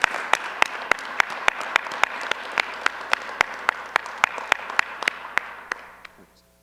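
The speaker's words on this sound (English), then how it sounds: "would you join me in a round of applause for Mr. Barber" Audience applause at a town council meeting, a steady wash of many hands with sharper individual claps standing out in a regular rhythm, holding for about six seconds before quickly fading out.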